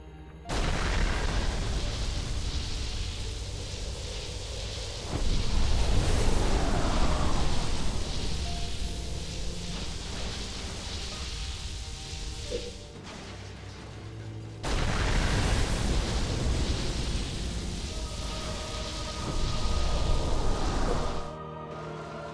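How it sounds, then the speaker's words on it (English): A roaring, booming cleansing beam in Halo Wars sweeps across and destroys power sources, with sustained loud rumbling blasts in two long waves separated by a brief quieter gap. "steer the cleansing beam around the 3 power sources to destroy them"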